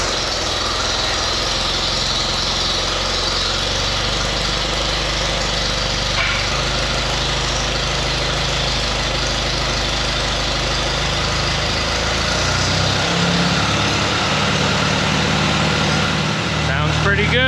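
A restored antique tractor engine idling steadily and loud up close, a low throbbing chug that shifts slightly near the end, with a person talking over it.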